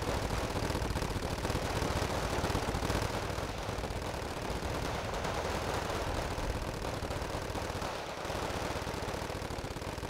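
Wargame: Red Dragon battle with Mi-2 helicopters giving fire support: a dense, continuous roar of rapid gunfire and engine noise fills the whole stretch with no pauses.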